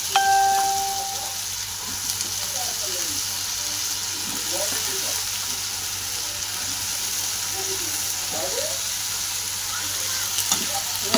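Eggplant and potato pieces dropped into hot oil with coconut, ginger and garlic paste, a close steady frying sizzle with occasional scraping stirs of the spoon, and someone speaking briefly over it.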